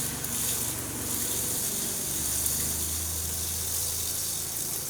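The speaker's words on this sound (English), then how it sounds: "now I'm going to do the hot and cold water in the kitchen fixture." Water running from a camper's kitchen faucet during winterization, a steady broad hiss and gush with a low pump hum joining partway through, continuous and close.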